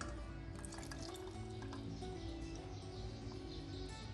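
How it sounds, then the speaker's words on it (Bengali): Milk poured into sabudana payesh simmering in a pot, a faint, steady liquid trickle with light drips under a constant low hum, with no talking. "এখন আমি এখানে 1 কাপ দুধ দিয়ে দেব।"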